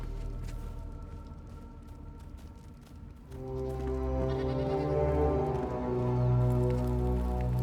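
Goats bleat in a village in the video game Enshrouded, a steady layered chorus of tonal calls that starts quietly and swells louder about halfway through, with no voices.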